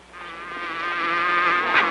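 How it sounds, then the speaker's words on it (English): A bee buzzes steadily and close for two seconds, a continuous droning hum that grows slightly louder toward the end, with no talking over it. "Yikes! That's a bee."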